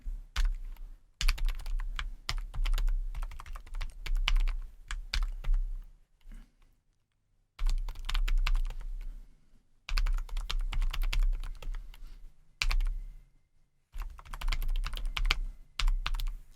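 Keys clatter in rapid bursts on a computer keyboard during Excel data entry, including an Alt+Enter combination. The dense typing stops briefly in a few short pauses, and no one speaks.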